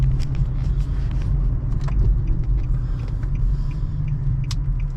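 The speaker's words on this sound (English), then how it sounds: "pulling up to the gas station" An Infiniti G37 rolls into a gas station, its engine giving a steady deep low rumble that stays loud and close throughout, with faint creaks and ticks above it and no talking.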